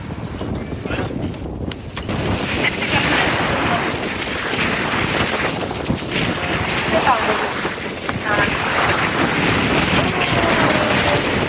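Sea waves wash onto the beach at Al Mirfa in a loud, continuous surf roar, heavily buffeted by wind hitting the microphone, with possible faint voices in the background.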